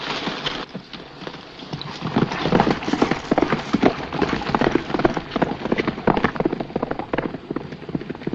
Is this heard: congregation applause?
no